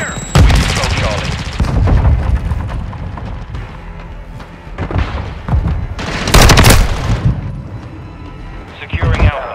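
Gunfire in a Domination match of Call of Duty Modern Warfare II on Shoot House, loud rapid bursts and booming shots in quick succession, with game voice callouts over the shooting.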